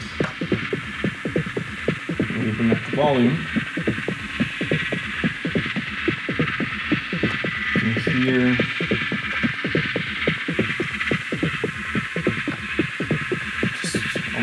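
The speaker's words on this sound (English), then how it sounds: "send the output of the reverb and send it into my third effect, which is the mutable instrument clouds" Granular effect output from a Mutable Instruments Clouds module fed by reverb in a hybrid techno setup: a steady throbbing pulse under a droning hum, with bursts of rising, chirping grain textures, and someone speaking briefly over it.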